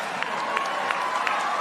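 Audience at a university commencement speech at USC clapping, a brief steady wash of applause from a crowd with a few louder individual claps standing out.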